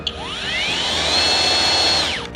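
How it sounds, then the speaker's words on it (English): A Hoto cordless power drill spins up with a rising whine, holds a steady high-pitched buzz for about two seconds, then winds down, close and fairly loud while e-bike handlebars are mounted, with no talk. "Got my trusty Hoto drill."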